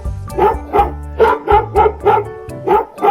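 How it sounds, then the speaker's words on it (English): A toy farm animal plays a recorded dog bark, about eight loud, evenly spaced woofs in quick succession, close and clear with no talking. "It's a dog. Yeah, dog."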